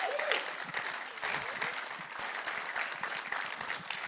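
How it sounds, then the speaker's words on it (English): An audience at a conference talk claps steadily for several seconds to welcome two speakers, a dense wash of applause from a medium-sized crowd without cheering. "Let's give them a big round of applause."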